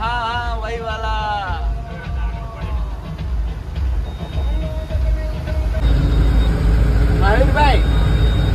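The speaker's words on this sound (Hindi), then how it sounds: "महावीर भाई रोड पे ध्यान दो और रेलगाड़ी के सामने मत देखा करो, रेलगाड़ी है तो आती जाती रहेगी" A train rolls past beside a road, heard from inside a moving car in light rain, a steady loud low rumble and clatter that swells toward the end, with voices talking over it.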